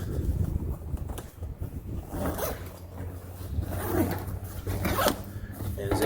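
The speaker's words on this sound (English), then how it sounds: "And zip it up" An LA Police Gear operator pack, loaded with portable radio kit for Parks on the Air, being zipped shut: a run of close, raspy zipper strokes over a low steady hum, with faint voice in the background.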